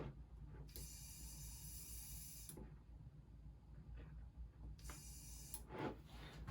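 Two bursts of hissing spray, each lasting about two seconds, with a shorter spurt near the end over a quiet background.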